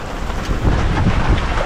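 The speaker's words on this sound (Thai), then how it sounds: "ดูฝนเนี่ยตกเลยดูดิเราจะมองไม่เห็นเขาแล้วครับ" Heavy rain pours down outdoors in a steady, loud broadband wash, with dense low rumbling throughout and no voices.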